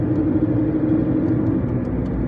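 A car cruising in fifth gear along a city road in Lviv, heard from inside as a steady low engine and road rumble, loud and unbroken, with no talk.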